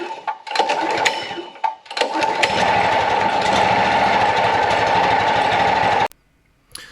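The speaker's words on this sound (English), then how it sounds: "got it running." A small engine sputters through a few false starts, then catches and runs with a loud, steady buzzing drone before abruptly cutting off.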